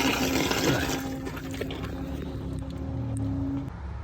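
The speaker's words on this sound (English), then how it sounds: "as the air pushes all the water out, it kind of leaves some gaps in other parts of the plumbing in there" Compressed air forcing water out through the plumbing lines of a Four Winds 5000 RV during winterizing, giving a steady, fairly loud hiss and gurgling rush of water with a sustained tone running through it and no talking.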